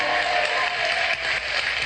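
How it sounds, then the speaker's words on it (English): A studio audience on the game show Let's Make A Deal applauds, a loud, continuous roar of clapping that holds steady for a couple of seconds without a break. "Give this man a round of applause."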